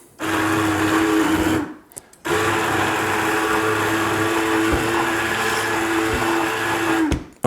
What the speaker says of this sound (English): with an immersion blender, we're going to blend those whole tomatoes